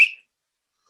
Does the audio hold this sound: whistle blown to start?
yes